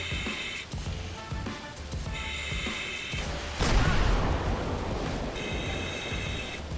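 Explosions go off during a hazmat fire in GTA 5: a sharp, loud blast lands partway through over a continuous hiss and rumble of fire and spraying water, with fainter mechanical noise before it.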